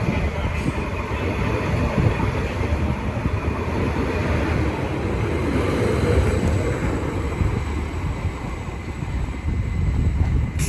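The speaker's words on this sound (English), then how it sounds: "Now departing is the 1350 Greater Anglia service from Norwich to Stansted Airport." A Greater Anglia Class 755 unit pulling away from Cambridge station, a broad steady rumble of engine and wheels holding at an even level throughout, close and continuous, with no talk over it.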